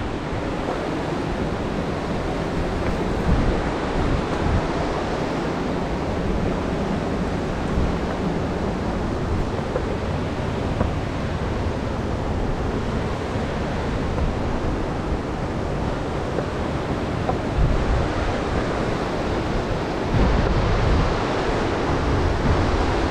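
River water rushing over the Cucumber Rapids boulder field, a dense, continuous roar heard up close, steady and full for the whole stretch with no voices.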